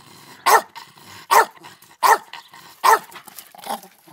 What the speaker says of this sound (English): this is why I can't sit outside because of your bark